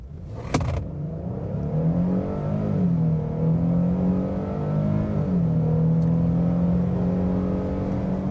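A 2025 Nissan Frontier PRO-4X pickup truck in 2-wheel drive accelerates slightly uphill, its engine drone rising in pitch through the gears with a brief dip at each shift, loud and close throughout.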